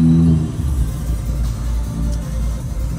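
Hyundai Veloster R-Spec Turbo with a short shifter and shifter bushings, heard from inside as the engine drones low and steady while accelerating, a loud continuous rumble with a brief higher whine at the start.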